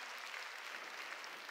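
A church congregation applauds during a Wednesday worship service, a steady, dense wash of clapping from many hands that stays even throughout, with no talking over it.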